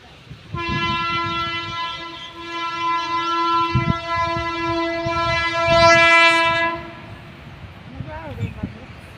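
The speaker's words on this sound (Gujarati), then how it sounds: "હવે આવે છે ટ્રેન ફાટક તો ક્યારની બંધ થઈ ગયા આવશે ટ્રેન આ બાજુથી આવતી" At a closed railway crossing, an approaching train sounds a long, steady horn blast for about six seconds, loud and close over rumbling rail noise, with faint voices nearby.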